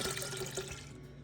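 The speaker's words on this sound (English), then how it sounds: "We will measure 8 cups cold filtered water to the tea mixture." Cold filtered water pours steadily into a kombucha tea mixture, a continuous close splashing rush of liquid filling a container with no talk.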